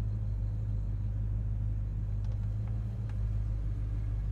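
A 1969 Plymouth GTX with its original drivetrain idles smoothly and quietly, a steady low rumble that holds even throughout, close by and alone.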